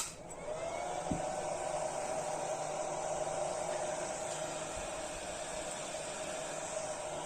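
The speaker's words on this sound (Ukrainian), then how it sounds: "Так, інвертор запустився." A pure sine wave inverter starts up and runs with a steady, fairly loud whine and airy hum that settles into a constant tone, close by with no talk.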